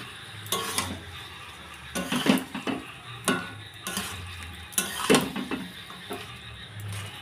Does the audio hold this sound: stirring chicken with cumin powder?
yes